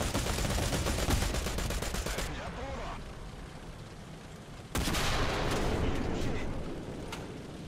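A 20mm cannon and a commander's remote-controlled machine gun fire from a tank in War Thunder, giving dense bursts of rapid shots that pause briefly mid-clip and then resume loudly.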